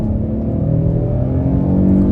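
A 2023 Kia Telluride S engine revs and accelerates steadily, a loud continuous low rumble and whir that builds slightly over two seconds.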